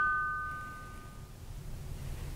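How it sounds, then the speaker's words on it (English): A doorbell gives a single clear ding at the start that fades quickly into quiet room tone. "Is that the doorbell?"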